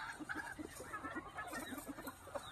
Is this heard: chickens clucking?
yes